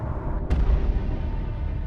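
A blast booms out of a tunnel in the Solo Leveling Arise video game, one sharp burst followed by a heavy low rumble that lingers over a dense background.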